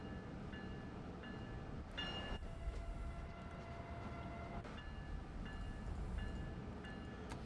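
A Boston commuter train running in the Train Sim World 2 winter service, a steady low rumble and rolling hum throughout with faint clicks and occasional higher tonal whines, no talk.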